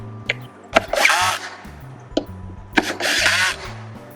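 Power drill driving screws while a pedestal is fastened to a desk, in two short bursts of whirring with clicks and handling knocks between them, close and fairly loud.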